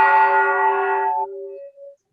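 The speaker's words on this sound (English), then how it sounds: "can you ring the bell for us?" A single bell rings once at the start of an interfaith peace gathering, giving a bright, clear strike whose tones ring on and fade over about two seconds, with no talk.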